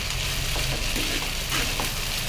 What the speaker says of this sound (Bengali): এরপর আমি ভালো করে মিশিয়ে নেব।